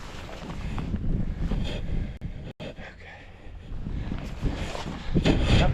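Wind buffets the microphone atop Flat Top Peak near Anchorage, Alaska, a loud continuous rumbling roar with gusty surges and a brief dropout, no clear voices.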